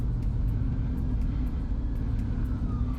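A 2024 Chevy Silverado ZR2 Bison pickup truck cruising down a road in a research park, a steady low engine and road rumble heard from inside the cab, with faint ticking over it.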